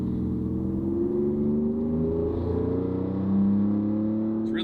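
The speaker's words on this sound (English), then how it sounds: "This is a 19 Raptor that we just put Borla exhaust on." A 2019 Ford Raptor Gen 2 fitted with a Borla Atak exhaust accelerates, heard from inside the cabin with the windows closed: a steady, raspy low engine rumble whose pitch climbs gradually, with no talking.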